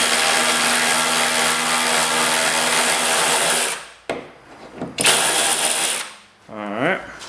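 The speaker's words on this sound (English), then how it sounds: "we're going to take this bolt out" A power tool whirs steadily and loudly while a bolt is removed during a hood strut install on a 2000 Mustang GT 4.6, then stops abruptly, followed by a short burst and a spoken voice.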